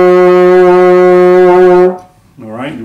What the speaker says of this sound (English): we're going to start on low C, which is going to sound like this